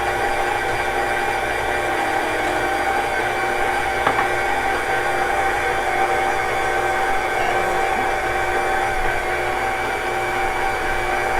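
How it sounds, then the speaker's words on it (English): Electric stand mixer beating homemade donut dough, a steady loud motor whir that holds unbroken for the whole stretch, close by with no talking. "Now this is going to go for a few minutes until it's combined"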